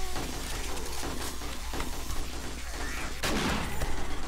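Gunfire in the zombie survival game 7 Days to Die, several sharp shots at irregular intervals over constant game ambience, with a louder burst near the end.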